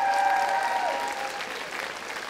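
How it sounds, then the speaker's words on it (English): Audience at a school production of Grease gives a loud, sustained round of applause for the backstage pupils, a steady wash of clapping filling the hall, with a faint tonal hum from the sound system at the start. "So let's give them a big round of applause."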